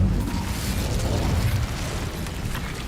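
An Incendio fire spell cast in Hogwarts Legacy: a sustained roaring, crackling fiery blast, loud and steady, easing slightly near the end.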